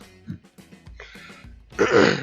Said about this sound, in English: Excuse me with the coughing